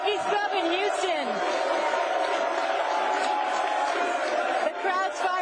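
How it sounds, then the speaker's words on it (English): A live crowd at a Houston sports show keeps up a dense, steady roar of chanting and cheering, close and loud for the whole stretch, with whoops rising out of the din. "The crowd's fired up. We're loving it here. You hear the chants."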